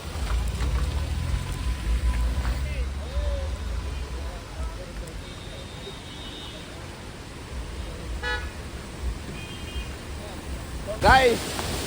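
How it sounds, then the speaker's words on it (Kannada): Steady rain falls outdoors as a continuous broadband hiss, with passing traffic, a brief car horn and faint voices mixed in. "ಇಲ್ಲಿ ಬಂದಿದ ತಕ್ಷಣ ಮಳೆ ಸ್ಟಾರ್ಟ್ ಆಲ್ರೆಡಿ."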